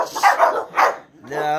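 Several dogs bark in short bursts close by, mixed with a person talking over them; the barks come in two clusters followed by a whining tone.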